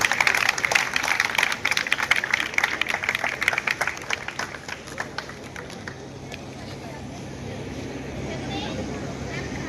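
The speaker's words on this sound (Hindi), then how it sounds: "श्री विशाल सिंगल जी का भी जोरदार तालियों से स्वागत कीजिए" Hands clap loudly for a district science expert at a government school science model event, a burst that thins out within about three seconds and leaves a quiet murmur of room noise.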